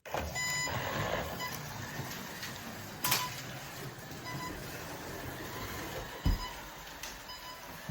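A Scalextric Mini slot car runs around the track with a steady, faint electric whine and whirr, with a few clicks and small bumps as it laps, heard alone.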